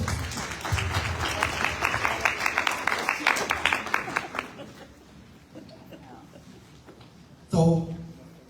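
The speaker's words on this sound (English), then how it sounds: "Give yourselves an applause for coming to participate in the process." Crowd at a Chicago 6th Ward aldermanic community forum in an auditorium clapping, a full burst of applause that tapers off over about five seconds, followed by a quieter pause and a brief loud sound near the end.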